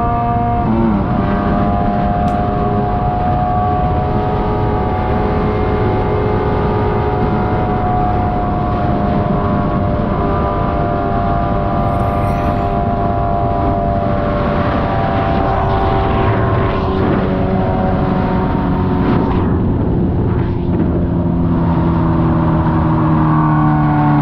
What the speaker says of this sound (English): Sport bikes, you're not being discreet because that exhaust is loud.